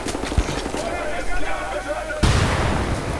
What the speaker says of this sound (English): Okay, that was Tesla grenade.